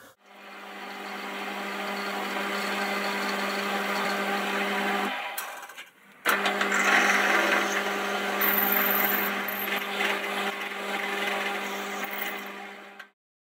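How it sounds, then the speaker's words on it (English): A steady power drill whines through an aluminium block, pausing briefly midway before starting again and running until it cuts off abruptly. "All we need to do is drill a hole through there."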